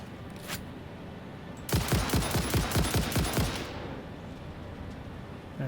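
Gunfire in the video game Satisfactory as a player shoots at a creature: a rapid burst of about a dozen sharp automatic shots over roughly two seconds, then fading back to a low game ambience.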